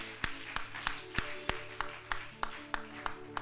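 A church congregation claps in a steady, even rhythm of about three beats per second, close and distinct, with no voices over it.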